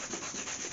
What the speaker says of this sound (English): Take my 80 grit, and we're just going to scuff it up